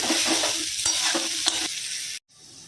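Potatoes with onion, ginger and garlic sizzle loudly in a hot pan while a spatula scrapes and stirs in steady strokes, then the sound drops away.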